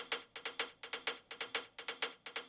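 Shuffled sixteenth-note tech house hi-hat layer with no stereo movement, a crisp, steady ticking pattern of bright, short hits in a swung rhythm, playing alone and fairly quiet.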